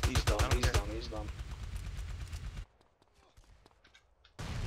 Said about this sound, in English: I'm just shooting it up, I'm shooting it.